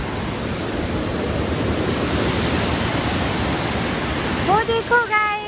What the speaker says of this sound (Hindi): वो देखो गाइस, क्या पानी निकल रहा है। ओह माय गॉड, बहुत डेंजरस पानी निकल रहा है यार।